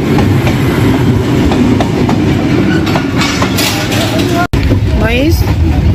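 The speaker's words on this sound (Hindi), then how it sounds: "अब तो आ रही है, ये लें जी ट्रेन आ गई हमारी।" Passenger train pulling into a station on a foggy morning, a loud steady rumble of wheels and cars with rhythmic clatter and a brief squeal, while people talk nearby throughout.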